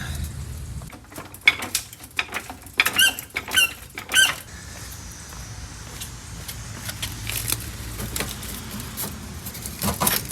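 Cable and fittings squeak and clank as the e-brake cable on a Porsche 914 is worked loose during a teardown, with scattered short metallic rattles and knocks, loudest in the first half and then quieter intermittent taps.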